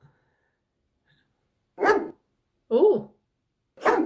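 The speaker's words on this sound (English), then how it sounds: "Oh, those dogs creep me out. Is that like a Rottweiler, I think?" Dogs that look like Rottweilers bark three times in the 1995 horror video game Phantasmagoria, with evenly spaced, moderately loud barks and a brief voice at the start.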